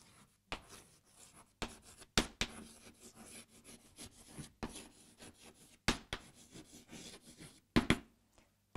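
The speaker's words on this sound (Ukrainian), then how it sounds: "Отже, пишемо відповідь." A pen or pencil writes out the answer to a primary-school math problem: quiet, close scratching strokes in short bursts separated by brief pauses.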